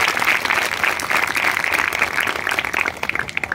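An audience at a self-defence campaign event applauds after a poem recital. The clapping is thick and continuous, close and fairly loud, and grows patchier toward the end.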